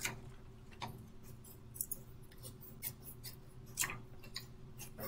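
Scissors trim the excess carrier sheet off iron-on vinyl for a beach bag, giving quiet, close crisp snips at irregular intervals over a faint steady hum.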